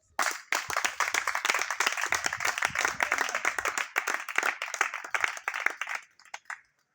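A church congregation at a Sunday service bursts into dense, rapid applause, many hands clapping together loudly for about six seconds before trailing off into a few scattered claps.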